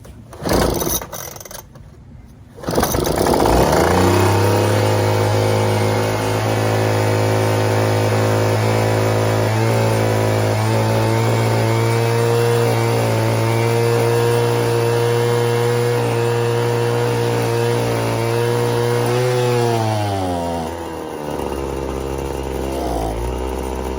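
A Troy-Bilt TB430 leaf blower with a freshly replaced carburetor sputters through a brief pull, catches and runs at a loud, steady, buzzing idle for about fifteen seconds, then dips and wavers slightly near the end.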